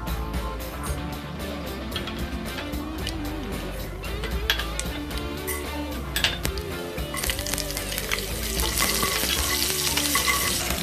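Whole spices frying in two spoons of oil, with a constant crackling sizzle and repeated stirring scrapes and clinks of a spoon against the pan, the hiss swelling louder toward the end, over a low steady hum.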